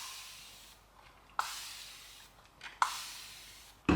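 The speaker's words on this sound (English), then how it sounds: "I'm going to use the spray." Hand spray bottle misting onto the skin while testing a cream, three short pumped spritzes each followed by a fading hiss, close and fairly quiet with no talking.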